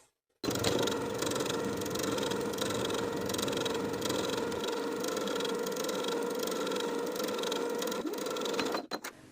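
A sewing machine top stitches a seam allowance an eighth of an inch from the edge on a colorblock top, a steady close whir running continuously for about eight seconds before stopping abruptly.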